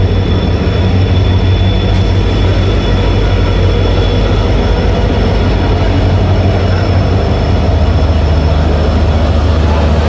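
A train at platform 2 of a railway station on the Tinsukia to Simaluguri route, producing a loud, continuous low rumble and rattle that holds steady throughout, close and unbroken.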